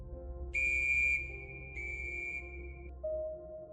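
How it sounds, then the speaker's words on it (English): A loud, shrill whistle blows in two sustained bursts, then a lower tone lingers, heard alone over a faint low rumble. "a deafening whistle pierced the silence."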